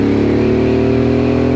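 A Benelli 752S motorcycle engine revs hard on the throttle in one loud, sustained, steady drone heard up close while riding, with no talk over it.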